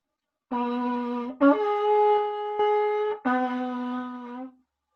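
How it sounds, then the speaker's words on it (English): A long natural horn sounds a few held, brassy notes with brief breaks between them, played alone and fairly close. "It's like a natural trumpet or some sort of hunting horn"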